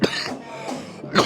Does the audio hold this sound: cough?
yes